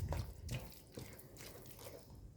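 Ice water poured gradually into fish dough for pempek, a soft, steady trickling and splashing close by, fairly faint and with no talk.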